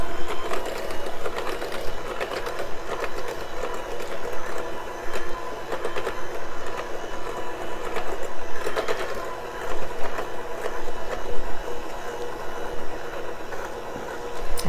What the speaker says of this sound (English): I'm going to go ahead and add our eggs while I'm mixing